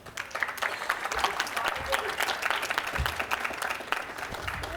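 Applause from a crowd at a graduation ceremony, a steady wash of clapping lasting the whole stretch, fairly close and full, with a voice speaking over it.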